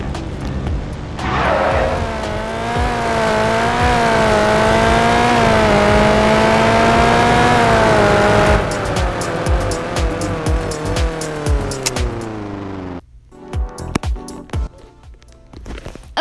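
Dune buggy engine in the video game Car Crushers, the Ariel Nomad, revving loudly and steadily for several seconds with rising and falling pitch, then easing off and cutting to quieter sporadic noises near the end.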